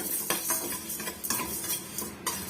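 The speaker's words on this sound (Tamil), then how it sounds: "மிதமான தீயில வச்சு வறுத்தி விட்டுக்கோங்க" Urad dal and chana dal roast in a pan while being stirred, a quiet dry rattle and repeated scraping strokes of a spoon in a loose rhythm, with faint sizzle underneath.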